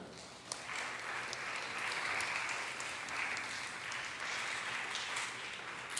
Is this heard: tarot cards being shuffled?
no